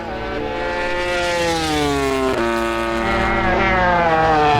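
Johann Zarco's MotoGP motorcycle on a flying qualifying lap at the 2020 Alcañiz round, its engine a loud, close, rising multi-toned howl that climbs through gears with brief shift dips.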